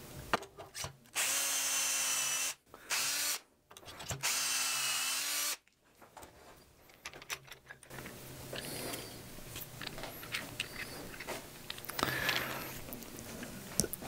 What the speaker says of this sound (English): we'll drill a couple holes